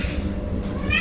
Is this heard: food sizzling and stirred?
no